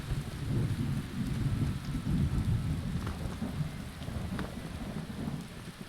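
Steady rain falls in a video game, a dense, low rumbling wash of rainfall with thunder-like undertones, continuous and moderately loud with faint scattered drops.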